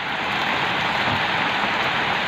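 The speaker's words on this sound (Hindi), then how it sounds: "आ देखा तो कैसे बारिश होते जी" Heavy monsoon rain pours steadily over a village on the second day of Ashadh, a dense, continuous hiss of drops striking surfaces close by, loud and unbroken with no voices.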